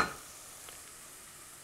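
Garlic frying in a pan for marinara sauce, a faint, steady close sizzle with a brief louder burst at the start.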